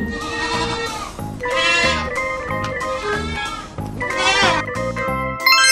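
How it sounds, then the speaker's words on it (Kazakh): A goat bleats loudly and close by, several wavering, nasal calls in a row with short gaps between them, and no talking over them. "Дұрыс таптыңыздар, бұл ешкінің дауысы."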